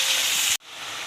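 Marinated chicken pieces hit a hot pan for a chicken dish, giving a loud, steady hiss that breaks off abruptly for an instant, then resumes a little softer.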